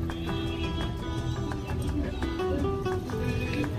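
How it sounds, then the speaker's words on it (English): A horse on a windy beach in Mexico, heard as faint snorts and movement in a busy outdoor setting with steady wind and background noise. "Although this horse doesn't seem too fearsome, right?"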